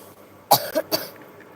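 Two or three sharp coughs in quick succession, close and fairly loud, with quiet moments around them.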